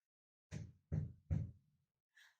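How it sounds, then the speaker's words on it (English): Three firm knocks on a wooden door in quick, even succession, close and clear, followed by a faint fourth tap after a pause, with no talking. "there was a knock on the door"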